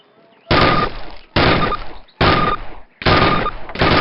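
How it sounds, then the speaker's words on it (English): Sustained bursts of automatic weapon fire from a Call of Duty video game, four or five loud rapid volleys separated by short pauses, close and alone. "Get used to firing both ways."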